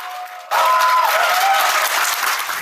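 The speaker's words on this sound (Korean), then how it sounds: "발사 통제동에서 숨죽이며 지켜보던 연구진들은 그제야 안도의 박수를 보냈습니다." Researchers in a launch control building applauding the Nuri rocket's fourth launch: after a quiet tone, a sudden burst of dense clapping rises and holds loud, with cheering underneath.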